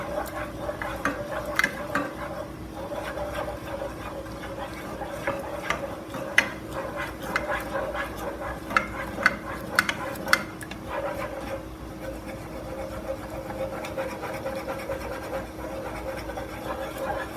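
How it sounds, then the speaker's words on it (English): A spoon scrapes and stirs a thick roux-based mac and cheese paste in a pot, making continuous soft scratching and clinking against the metal with small sharper knocks, steady and close with no talking. "Let's stir it up really good."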